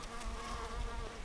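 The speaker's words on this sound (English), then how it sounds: "It's a lot of bees." A dense, steady buzzing of many bees, close and continuous, with a low droning hum throughout.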